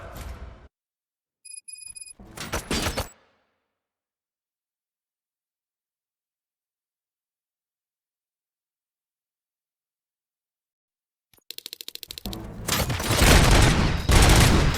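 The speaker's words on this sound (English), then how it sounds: "Gunshots? What's going on?" Gunfire in the RoboCop Rogue City shooter game: short bursts of rapid shots at the start, then a long silence, before heavy sustained firing and loud impacts return near the end.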